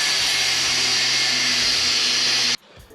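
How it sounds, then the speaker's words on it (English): A power drill bores a hole in metal in a garage, a loud, steady high-pitched whine that runs for a couple of seconds and then cuts off abruptly into quiet. "I have to get it into a drill is all."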